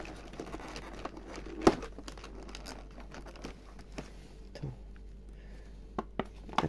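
Packaging of a powder brush being opened, soft crinkling and tearing of plastic with scattered small taps and one sharper crackle, close up and fairly quiet.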